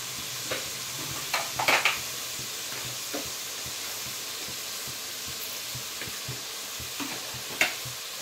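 Tomatoes fry in a hot pan with a steady broadband sizzle, punctuated by occasional soft scraping stirs and small pops, close and continuous with no talking.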